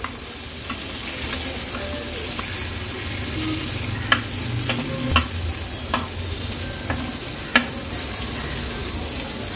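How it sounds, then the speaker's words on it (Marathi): Pieces of ghol fish fry in hot oil in a pan, giving a steady, close sizzle with a few sharp clicks and taps from turning the pieces. "ह्या वाकट्या आपण साईडला करून घेणार आहोत आणि ज्या साईडच्या वाकट्या होत्या ना त्या मधोमध करून घेऊया, म्हणजे व्यवस्थित त्या फ्राय होतील"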